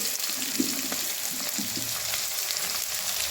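Capsicum frying in a wok for chilli chicken, a dense, even sizzling hiss close by with a couple of faint stirring knocks, no one speaking.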